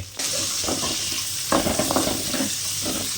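Two large onions dropped into hot oil for a country chicken fry, a sudden loud sizzle that holds steady, with a few soft stirring scrapes in the pan.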